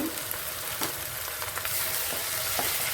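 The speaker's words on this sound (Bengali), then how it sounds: "আদা রসুনের পেস্টটা দিয়ে হালকা করে ফ্রাই করে নেব" Ginger garlic paste fries with browned onions in a pan, giving a steady close sizzle broken by soft scraping taps of stirring.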